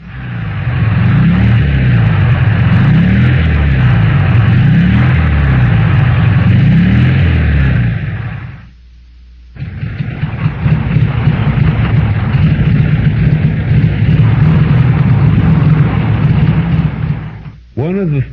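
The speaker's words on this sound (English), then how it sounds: "First, normal engine, then one with an irregular miss." A Volkswagen engine idles at a close, loud, even, pulsing rhythm, falls briefly quiet, then runs again with an irregular miss from fuel delivery trouble, its beat rougher and uneven before cutting out near the end.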